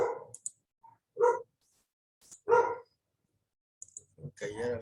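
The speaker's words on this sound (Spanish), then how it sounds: "Voy a callar al perro." A dog barks indoors in a few short, sharp bursts spaced apart, with a person's voice speaking between them at close range.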